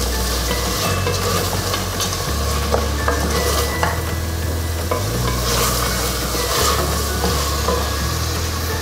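Mutton and bottle gourd masala with thick cinnamon sticks stir-fried in a pot, with a steady loud sizzle and repeated scraping strokes of a spoon against the pan, alongside a low rumble underneath.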